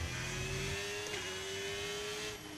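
A Formula 1 race car engine screams at full throttle on the Mexico circuit in a racing game, a steady high-pitched whine held close and loud with no talk over it.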